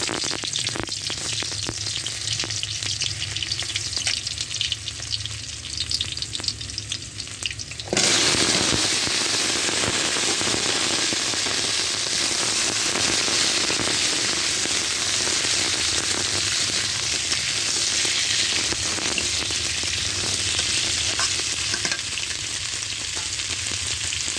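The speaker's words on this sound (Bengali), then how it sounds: "কয়টা তেল দিয়েছি, 4টা পেঁয়াজ কুচি দিয়েছি" Chopped onion, four onions' worth, sizzling in hot oil in a pan while potatoes, long beans and papaya wait to go in, a steady loud crackling fry that jumps in intensity partway through and continues without talk.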